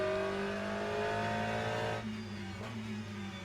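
Damaged race car in a racing video game, its rear end wrecked, engine droning steadily at a held pitch as it limps along, then briefly dropping and settling lower, continuous and fairly close.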